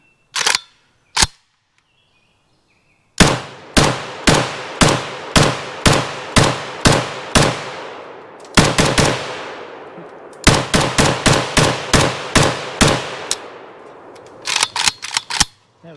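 An RPK 7.62x39 light machine gun firing in the video game Squad, loud close shots with echoing tails: two single shots, then several quick bursts of rapid fire separated by brief pauses.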